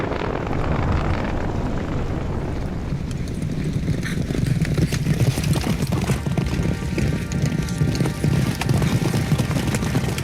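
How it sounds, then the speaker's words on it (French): Wild horses galloping across sand in the Kazakh steppe, a rhythmic run of hoofbeats thudding steadily and close over a constant rumbling background, growing slightly heavier toward the end. "Du sable et des chevaux sauvages."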